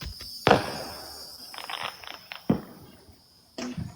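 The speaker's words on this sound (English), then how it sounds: "They're just blowing them up in the street." Fireworks explode outdoors in a street on the Fourth of July, a few sharp cracking bangs spaced apart with crackling fizz between, heard from a distance through a house.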